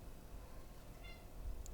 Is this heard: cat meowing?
yes